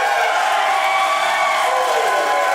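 A live studio audience at a theater cheers and applauds in a dense, steady wash of clapping and crowd noise that holds at full loudness throughout.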